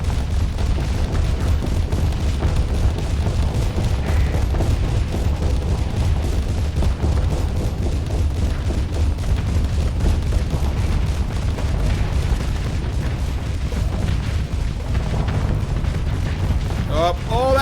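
Heavy weapons barrage in the space combat game Starsector, a dense, continuous roar of booming impacts and gunfire rumbling throughout at high volume, with a talking voice over parts of it.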